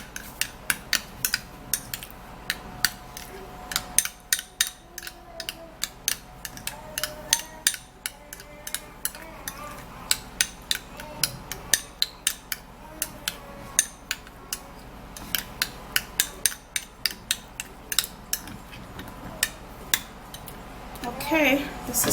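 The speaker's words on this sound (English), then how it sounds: "And I'll mix that up very well." Aloe vera mixture being stirred in a bowl, with a utensil clinking and scraping against the sides in quick, irregular taps at close range, steady throughout with no talk.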